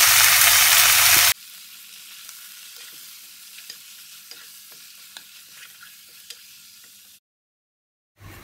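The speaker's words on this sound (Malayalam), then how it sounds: "ഇനി ഇതിലേക്ക് ചിക്കൻ ഇട്ട് കൊടുക്കാം." Chicken frying with onions in a pan for a Kerala green chicken curry, heard as a steady soft sizzle with scattered stirring scrapes. A brief loud burst opens it and it drops to silence near the end.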